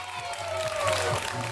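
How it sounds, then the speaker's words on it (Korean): Theater audience cheering and clapping at a play's curtain call, a continuous wash of applause and crowd noise heard beneath a voice talking over it. "배우의 열연에 관객은 환호성과 박수로 보답하는데요"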